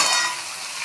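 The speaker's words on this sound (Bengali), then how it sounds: "ভালো করে ভেজে নেব।" Kalmi shak (water spinach) fries and gets stirred in a pan, a brief bright sizzle with a soft scraping stir, close and fairly loud at first and then easing slightly.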